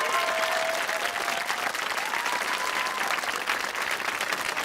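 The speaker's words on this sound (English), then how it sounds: "A round of applause." A studio audience on a BBC quiz show claps for a correct answer, an even wash of applause at moderate volume with a faint voice over it.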